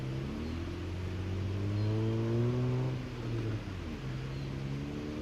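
A Jeep Wrangler Rubicon on tall tyres revs its engine while driving off-road. A steady, close engine drone rises and falls in pitch across several revs and runs continuously with no talk.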